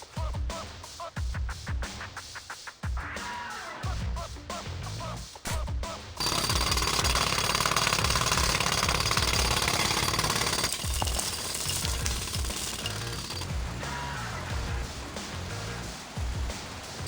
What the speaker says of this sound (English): I need more time to finish hammering the hole!